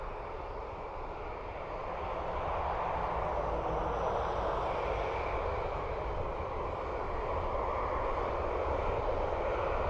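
Ryanair airliner taking off at Dublin Airport, a steady, loud jet engine roar that swells after the first couple of seconds and holds broad and continuous without letup.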